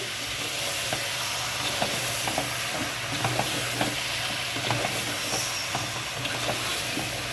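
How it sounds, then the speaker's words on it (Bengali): Chicken fries in a spice masala for Kolkata-style biryani, a steady loud sizzle with scraping stirs from a spoon against the pan throughout, with no talking. "এখন ওই মশলাটা যেটা করেছি সেখানে চিকেনটা ছেড়ে দিলাম। সুন্দর করে মিক্স করে নিয়ে যাবি মশলা দিয়ে।"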